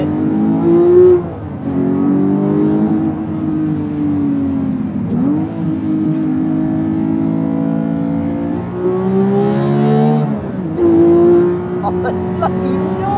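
Porsche 911 GT3 with a manual gearbox revs hard through its gears, a deep guttural engine note rising and dropping with shifts, loud and close throughout.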